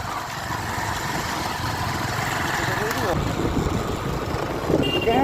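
A motorcycle engine runs steadily on a ride through snowy Nepal toward Lohori, a continuous close rumble with wind noise, and speech over it.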